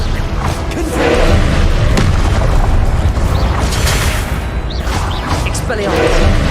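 A Confringo blasting spell fires off in the Hogwarts Legacy video game, with loud booming blasts repeating across the moment over a dense bed of game noise.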